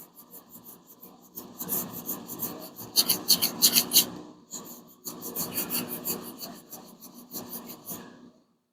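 Block sanding on a Hemi Plymouth Duster car body gives rhythmic rasping strokes in two bursts of back-and-forth scrubbing, close and moderately loud, with brief pauses between passes.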